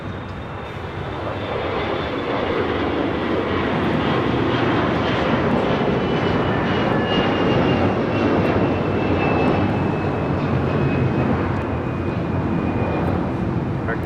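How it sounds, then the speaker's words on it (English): An American Airlines Airbus A321 takes off at LAX with a loud, steady jet roar that builds in the first seconds and then holds strong, broad and close, with a faint whine riding on top. "This is American Airlines 990 taking off to Atlanta, Georgia on an A321."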